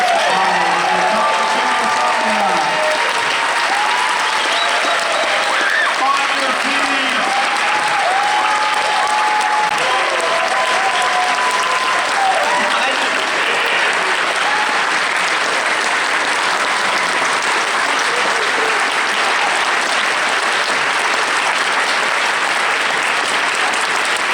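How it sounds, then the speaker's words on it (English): Loud, sustained applause from an audience at a My Little Pony: Friendship is Magic voice actors panel at BABSCon 2014, with scattered cheers and whoops mixed into the continuous clapping. "can we give Sonia a big round of applause for that"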